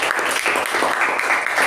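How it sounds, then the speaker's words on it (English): A loud, dense round of audience applause at a Toastmasters meeting, many hands clapping steadily and close together with no gaps. "Let's give a huge round of applause for our Toastmaster."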